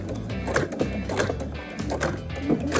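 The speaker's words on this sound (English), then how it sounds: "So I'm just gonna start slow and do some back stitches." A sewing machine stitches slowly through coiled rope to form a bowl, with back stitches: a rhythmic mechanical clatter of needle and gears, pulsing in quick repeated bursts, close and fairly loud.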